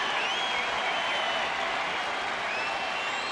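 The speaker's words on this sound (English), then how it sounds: "Crowd getting into it." A baseball crowd in Texas applauds steadily during a late-inning at-bat, a fairly distant, even wash of clapping and murmur with faint whistles and no talk over it.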